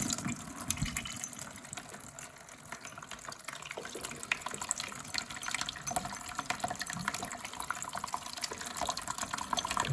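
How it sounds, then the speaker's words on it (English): A Tetra EX 800 Plus aquarium canister filter, four years old, pours water in a steady stream into a bucket, a continuous splashing fill that runs unbroken and fairly close. "We will fill up this bucket up to 10 liters and measure the time"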